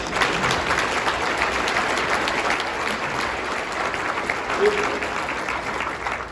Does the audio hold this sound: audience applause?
yes